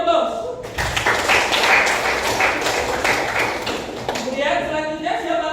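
Classroom applause from a group of students, dense steady clapping that starts abruptly, holds for a few seconds, then fades as a voice resumes speaking.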